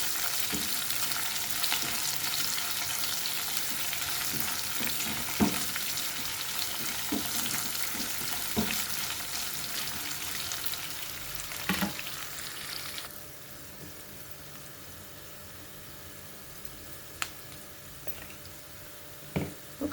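A dried red chilli sizzles and fries in hot oil in a pan, a steady dense crackle with occasional stirring clinks, dropping to a quieter sizzle partway through; no talk.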